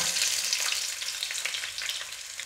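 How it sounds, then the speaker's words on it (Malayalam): Chopped shallots sizzling in hot oil with popped mustard seeds for a mutton curry, a dense close crackle with small spitting pops throughout. "അങ്ങനെ നമ്മുടെ കടുക് പൊട്ടിയിട്ടുണ്ട്, അതിലേക്കൊരു 3-4 ചെറിയ ഉള്ളി അരിഞ്ഞതിട്ട് കൊടുക്കാം."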